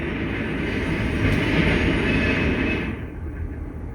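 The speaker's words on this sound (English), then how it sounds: "And waiting patiently on the Y is a Sioux Line local. Note the ex-Milwaukee engine." A Soo Line local freight train with an ex-Milwaukee locomotive waits on a wye, giving off a steady, fairly close rumble that fades slightly near the end.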